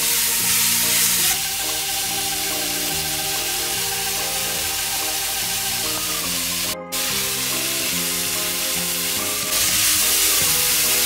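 Carrot and onion frying in a pan for Korean japchae give a steady, loud sizzle. The sound drops out briefly partway through, then the hiss continues without speech.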